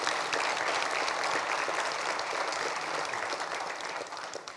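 Clapping from the audience at a municipal election all-candidates forum in Cranbrook rolls on as a full, even round of applause, easing off slightly in the final second.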